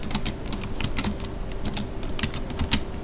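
Fingers tap out a web address on a computer keyboard, a quick uneven run of close, crisp keystrokes with no talking.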